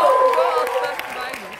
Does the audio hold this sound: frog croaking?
no